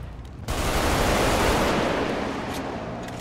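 Sudden dense burst of video-game gunfire erupts after half a second of quiet, a sustained loud barrage of overlapping shots and rumble fading slightly toward the end, with no talk.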